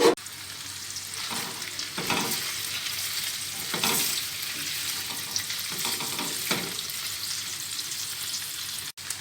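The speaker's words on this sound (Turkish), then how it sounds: "Bütün köftelerimi yağın içine attıktan sonra yavaş yavaş arkalı önlü köftelerimi kızartıyorum" Loud, continuous frying sizzle of chicken meatballs in hot oil, with occasional scraping stirs and bursts of crackling throughout, no voices.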